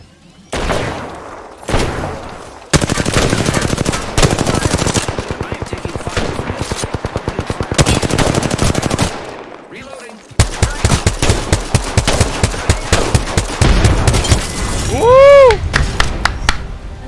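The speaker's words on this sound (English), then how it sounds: "I was unloading the bullets on him." Loud, rapid automatic gunfire fills an Apex Legends match in long sustained bursts with brief pauses, plus a rising-falling whine near the end and voices talking over the shooting.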